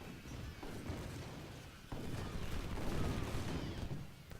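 Musket fire from raw recruit units in a Culp's Hill Gettysburg battle video game: a continuous distant crackle of many scattered shots, thickening into a denser rumbling volley partway through.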